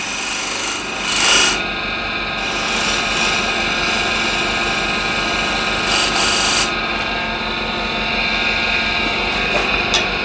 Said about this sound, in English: So if I need to shear scrape under the bead,